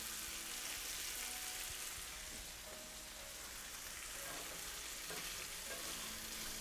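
Beef sizzling as it is tossed into a vegetable mixture in a cast iron skillet, a steady, dense frying hiss with faint stirring scrapes throughout.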